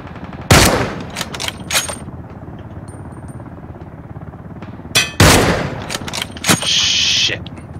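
Gunfire in the video game Ring of Elysium: two loud bursts of shots, the first near 0.5 s and the second near 5 s, each followed by scattered cracks and clinks, with quieter stretches between the bursts.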